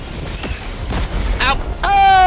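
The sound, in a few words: gunfire in Helldivers 2 video game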